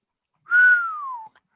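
A single whistled note from a person, clear and close, held steadily before sliding gently downward in pitch and stopping, heard alone without talk.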